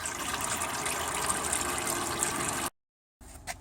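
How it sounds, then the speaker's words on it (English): Transmission oil gushes steadily from the drain plug of a CVT RE0F11A JF015E automatic transmission pan for about two and a half seconds, then the pour cuts off abruptly into silence before a brief faint trickle. "only a little bit of oil will come out of the drain plug because of the angle of the pan"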